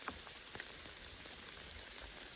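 Rain falls during an evening bow hunt for deer, a faint, steady patter with a few distinct drops tapping nearby surfaces.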